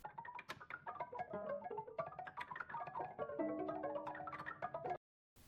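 Creepy, spooky sampled textures layered over an industrial metalcore production: dense, shimmering tonal swells and scattered metallic hits running steadily for about five seconds before cutting to near silence, then a brief burst at the end.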